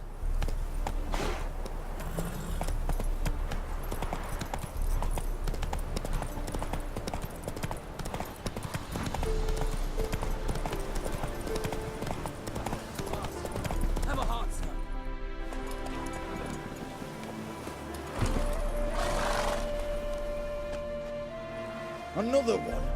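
Roach the horse in The Witcher 3 runs with brisk, repeated clip-clopping hoof beats near at hand, set against game music and background ambience, and the pace eases toward the end.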